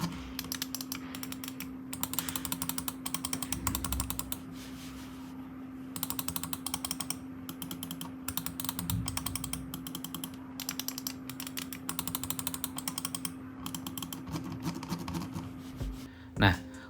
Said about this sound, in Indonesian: ini adalah contoh suara dari mouse Daxa R4 generasi kedua saat digunakan